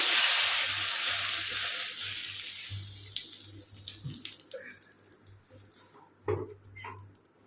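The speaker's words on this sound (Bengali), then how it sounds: "এবার আমি কড়ার মধ্যে দিয়ে দেবো একটা শুকনো লঙ্কা ফোড়ন, একটা তেজপাতা ফোড়ন" Dried red chili and a bay leaf hit hot oil in a kadai for a Bengali bitter gourd and fish curry, giving a bright hiss that slowly fades under soft music, with a brief clatter near the end.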